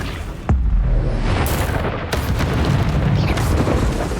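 A Bombarda spell explodes in Hogwarts Legacy with a sharp, loud boom, followed by a sustained rumbling roar of debris and further blast noise.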